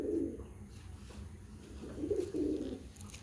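Imported golden pigeons coo nearby in soft, throaty bursts, one at the start and another pair later, with quiet rustling between them and no speech.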